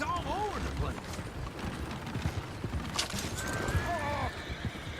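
In the Red Dead Redemption 2 town of Valentine, horses whinny in rising and falling neighs while hooves clip-clop steadily on the ground, with muffled voices in the busy game scene.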